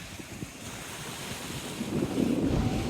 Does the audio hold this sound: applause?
no